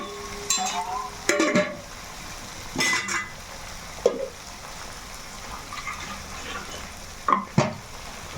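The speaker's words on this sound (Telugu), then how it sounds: "పచ్చివాసన పోయేదాకా వేయించుకోవాలి." Masala paste frying in a pan while being stirred, with scraping stirs and short bursts of sizzle coming in irregular clusters, close and moderately loud, no talking.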